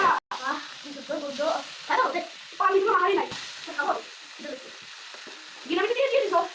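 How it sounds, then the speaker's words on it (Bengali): Meat sautéing with spices in a pan: a constant frying hiss while it is stirred, heard beneath a melodic voice or music that rises and falls throughout. "এখানে আমরা মাংসটা কষিয়ে নেব ভালো মতন।"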